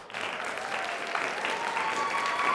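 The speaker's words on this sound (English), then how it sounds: "Can we have a round of applause?" Steady applause from a quiz match audience, dense and sustained for a few seconds at moderate level, with faint voices and a whistle-like tone above the clapping.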